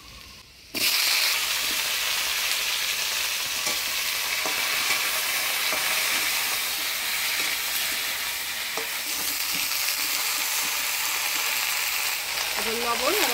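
Taro stems dropped into hot oil with frying garlic and nigella seeds, a sudden loud sizzle that holds as a steady close crackle for over ten seconds, with occasional stirring scrapes.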